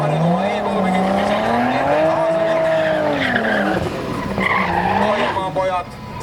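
A turbocharged BMW E30 race car skids around the track at a drift event, its tires squealing loudly in long wavering howls over the engine's roar, close and sustained.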